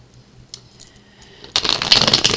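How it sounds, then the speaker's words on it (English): Tarot cards shuffled close up for a weekly reading: a few soft taps and slides at first, then a dense, bright riffling rustle that fills the last second, with no talking. "now I'll go ahead and start shuffling for your daily reading"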